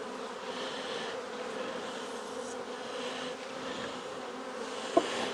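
Bees hum steadily inside a small mating nuc hive holding a couple of brood frames, a continuous close buzz that stays even throughout, with one brief sharp click near the end.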